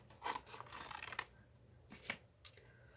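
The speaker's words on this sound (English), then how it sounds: "So I'm just going to take these and cut them off here right now." Scissors snipping card pieces for a handmade lakeside gratitude card, several short crisp cuts and paper rustles close up, with a few quiet gaps between snips and no talking.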